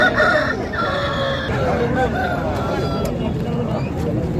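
Aseel roosters at a Saturday fowl market in Mydukur, Kadapa, crowing and clucking up close over a steady crowd babble, with someone talking throughout.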